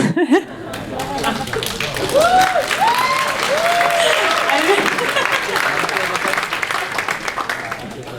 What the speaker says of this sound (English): do I hear clapping in the background?